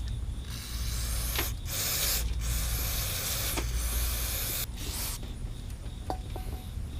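A hose spray washes down the outside of an abused Toro Recycler lawn mower, a steady loud hiss broken by several short pauses, with faint clicks near the end.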